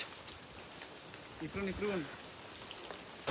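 Steady, close rain hisses through fog at Gorakhgad fort in Maharashtra, a soft continuous wash with a brief voice rising in the middle.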